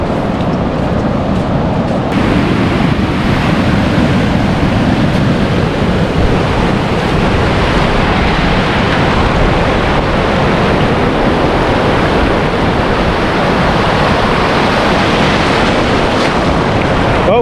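Ocean surf on the Oregon coast roars in a constant, loud wash of waves, buffeted by wind rumble against the microphone, with no clear voices.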